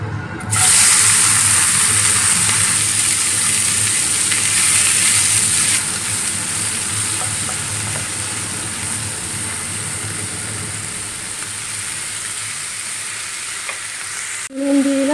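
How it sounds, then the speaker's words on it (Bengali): Chopped onions drop into hot refined white oil and start frying, with a loud, close sizzle that bursts at first and then settles into a steady, slightly quieter crackle. "তেলটা গরম হয়ে গেছে এবারে এর মধ্যে আমি কেটে রাখা পেঁয়াজটা অ্যাড করে দেবো"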